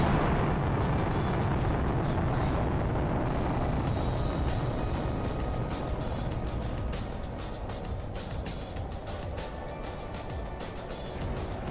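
In The Planet Crafter, an Iridium rocket launches with a loud, continuous roaring blast. The rumble holds heavy and steady for several seconds, then eases slightly toward the end, with no voices over it.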